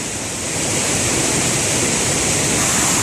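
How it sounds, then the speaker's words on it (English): Carp River Falls, a waterfall near Marquette, Michigan, roars as a steady, loud, broadband rush of falling water that fills the whole clip without a break and without any voices. "Come check out Carp River Falls."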